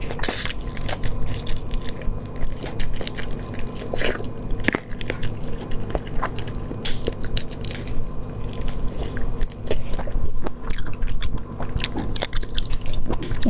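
Raw shrimp is bitten and chewed close to the mic, a dense run of wet crunches and squishy bites coming in irregular bursts, with no talking.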